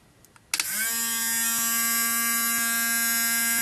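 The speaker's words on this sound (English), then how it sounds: "Now let's turn on the motor." A small electric motor in a split-battery-bank asymmetry setup switches on with a click and settles into a steady, close, continuous whine with strong harmonics that holds alone to the end.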